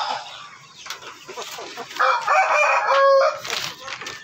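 A rooster crows loudly among clucking hens inside a backyard breeding pen built from recycled materials, with the crow ringing out near the middle and chicken chatter around it.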